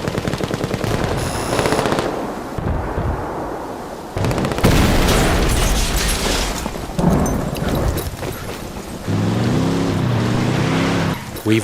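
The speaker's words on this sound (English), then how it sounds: "to provide further disruption, we blow that C4 we placed earlier" C4 explosive detonated at a Santa Blanca cartel camp in Ghost Recon Wildlands, loud booms mixed with heavy automatic gunfire and rumbling, followed by a steady engine-like drone.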